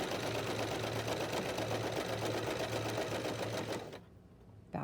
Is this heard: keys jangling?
no